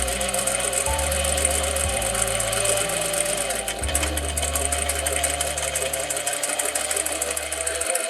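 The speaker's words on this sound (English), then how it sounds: "And back tack when you get to the top." A sewing machine stitches a jeans zip in continuous loud bursts of motor whir and needle clatter, pausing and restarting a few times across the span with no talk.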